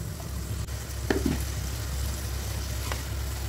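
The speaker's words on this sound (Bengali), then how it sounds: "দিয়ে দেব সামান্য জল, মশলাটা যাতে ভালো মতো কষে যায়" Spice paste with turmeric and a splash of water cooking down over very low heat for a fish curry, a soft steady sizzle with a couple of brief stirring scrapes, no talking.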